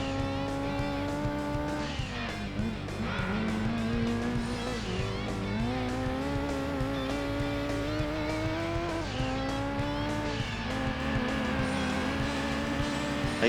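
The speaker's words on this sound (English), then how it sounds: "I can say that this Ford Escort is a very slow car" A Ford Escort rally car in Gran Turismo 2 runs on a Smokey Mountain forest rally stage with a steady, loud engine drone whose pitch climbs and drops through gear changes and corners, along with tyre squeal and skidding.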